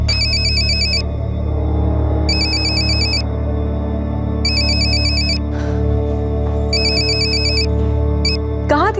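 A telephone ringtone rings in repeated electronic bursts, roughly every two seconds, in an indoor scene from a Hindi crime drama. The ringing sits over a steady low background hum, with a faint voice partly audible beneath it.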